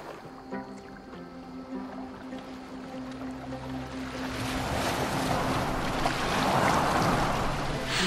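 A boat sails across open water in Assassin's Creed Valhalla, its steady wash of waves and wind slowly swelling louder across the stretch, with a low sustained tone underneath and no talking.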